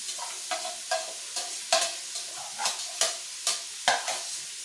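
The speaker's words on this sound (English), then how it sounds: "Toss in the green peppers, do the onions. Can't forget the mushrooms." Green peppers, onions and mushrooms are tossed in a hot pan for a Philly cheesesteak, with a soft steady sizzle broken by regular scraping strokes of a spatula, about two each second, close up and without talk.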